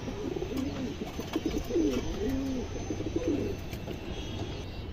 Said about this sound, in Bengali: এই দেখেন টকটকা লাল গিয়ারের কবুতর